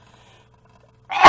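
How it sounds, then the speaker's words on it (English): A single sharp sneeze bursts out loud and close at the very end after near silence, preceded only by faint background hum. "I've got to sneeze."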